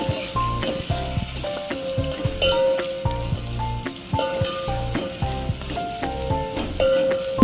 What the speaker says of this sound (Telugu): ఇప్పుడు దాంట్లో కట్ చేసిన ఆనియన్స్ని వేసుకొని ఒకసారి అలా మిక్స్ చేసుకోవాలి.